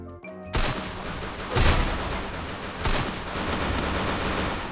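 Rapid automatic gunfire fills a Free Fire match, a sustained loud stream of shots with a few heavier bursts standing out, continuing without pause from start to finish.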